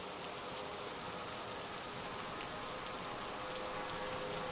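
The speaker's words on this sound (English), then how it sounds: "The rain suddenly began to pour again," Heavy rain pours steadily near a cabin at night, a dense, even hiss of falling water with no breaks.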